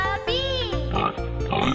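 A pig's oinking in a children's nursery song, probably a singing voice imitating the grunts, with short nasal calls woven through a bright, steady musical backing.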